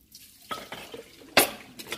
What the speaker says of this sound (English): There's like pots and pans in here.